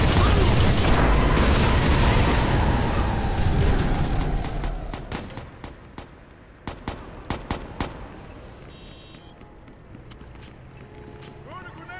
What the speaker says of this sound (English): Heads up, tossing the grenade.